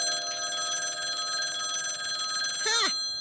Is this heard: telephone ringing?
yes